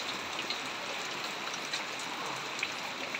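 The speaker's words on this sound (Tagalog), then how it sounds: "Yan guys bagyo ngayon." Steady rain pours down through a typhoon, a dense, even hiss of falling water with scattered drop patters, no voices, constant and fairly close throughout.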